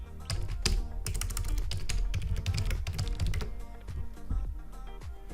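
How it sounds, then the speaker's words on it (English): Rapid keystrokes on a computer keyboard while entering an ESXi server's IP address, a dense, steady run of close clicks and taps lasting the whole stretch with no talking. "Type the IP address of my ESXi server"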